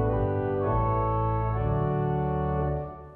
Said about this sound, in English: So adding to the 2 open diapasons then,